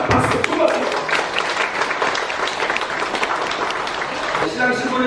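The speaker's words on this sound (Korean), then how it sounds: "진심으로 마음의 축복을 담아 박수로 축가의 꽃다발을 얹어드립니다. 박수" Wedding guests break into loud, dense applause that fills the whole stretch, a close, continuous wash of many hands clapping at once with no pause.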